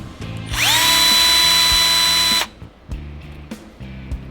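A Bosch GSB 120LI cordless drill spins clockwise, its motor whining up quickly to a steady high pitch and holding loud for about two seconds before stopping, with handling clicks before and after.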